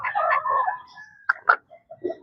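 Bantam chicken with a cold, giving a few short clucking calls and chirps, close by with pauses between them.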